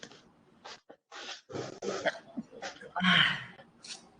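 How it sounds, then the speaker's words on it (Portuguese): A person gives a sharp, loud sneeze mid-lecture, with short throaty bursts and breaths around it and no clear words spoken. "eu vou espirrar por causa do ar"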